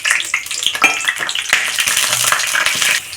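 Mustard seeds, cumin and chana dal hit hot oil in a pan: a loud, close, bright crackling sizzle with rapid pops and spatters that holds steady, then eases slightly at the end.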